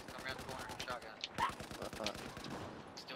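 Rapid automatic gunfire in the video game Battlefield 4 multiplayer, dense bursts of shots in quick succession with sharper close cracks among distant firing.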